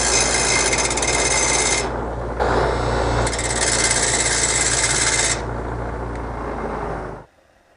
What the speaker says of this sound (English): I've got this chucked up in my drill.